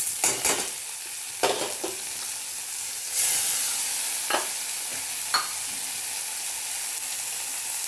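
Spices are added one by one to pointed gourd frying in a pan, giving a continuous hissing sizzle broken by several sharp spoon scrapes and taps as it is stirred, with no talking.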